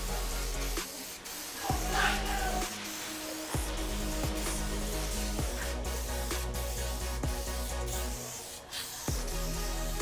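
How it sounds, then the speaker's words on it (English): A spray gun hisses in steady bursts while applying a wheel wrap coating, with short pauses and faint clicks between passes. "So we're just about done now with spraying."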